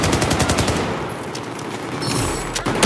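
Rapid automatic hip-fire bursts from a Battlefield 4 multiplayer team deathmatch on Siege of Shanghai, loud and close, one long rattling volley followed by a brief pause and another burst.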